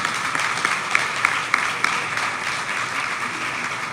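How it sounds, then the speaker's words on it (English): Sustained crowd applause fills the room at a swearing-in ceremony for Salem's new fire chief, Alan Dionne, a steady dense wash of many hands clapping with a few sharper claps standing out. "Let's give that a round of applause."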